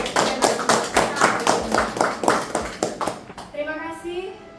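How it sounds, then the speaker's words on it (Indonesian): Listeners of a dialogue-style podcast session clap together in a steady, rhythmic beat of about eight loud claps, then the clapping stops and a person starts speaking. "kita berikan tepuk tangan untuk kita."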